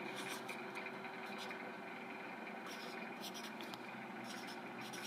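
A Sharpie marker writes on a DVD with a soft, continuous scratchy squeak in short strokes, quiet and close, over a steady low background hum.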